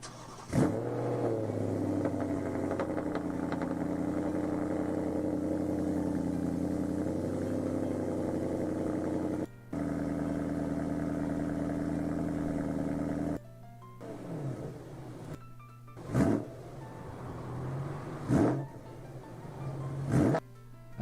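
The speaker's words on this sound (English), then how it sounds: "what does a BMW V8 sound like?" A BMW V8 car engine drones steadily at a loud, sustained level, then gives several sharp revs that rise and fall toward the end, with no talking.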